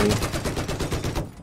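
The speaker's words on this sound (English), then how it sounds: "There's someone who's shooting me." Rapid bursts of gunfire crack loud and continuous at a main battle tank in Battlefield 4, a dense rattling volley that cuts off abruptly near the end.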